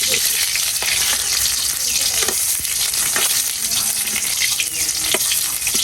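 Onions frying in oil in a pan, cooked outdoors in the rain, give a dense, steady sizzle and crackle with light stirring scrapes throughout, loud and close.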